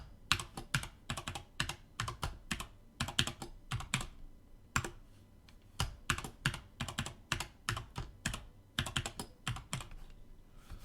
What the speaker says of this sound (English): it's a little easier for me to type a passphrase in